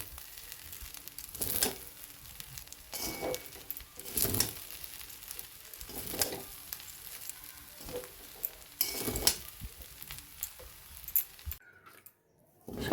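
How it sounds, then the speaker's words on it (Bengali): Fried rice with rose water and ghee is stirred in a pan, giving soft sizzling and repeated scraping, pattering strokes at a steady pace, fairly quiet and close, ending in a brief silence. "এবার সব কিছু ভালো করে মিশিয়ে নেব।"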